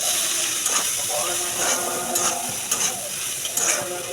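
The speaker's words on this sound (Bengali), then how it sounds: "এখন ভাজিটা ঢেলে দিব।" Watermelon rind fry is poured into a hot pan and stirred, giving a steady sizzle and hiss with repeated scraping strokes of a spatula at close range.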